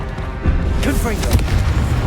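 Confringo blasting spell explosions in a Hogwarts video game, heavy booming bursts with spell-casting effects layered over continuous low rumble, loud and close throughout.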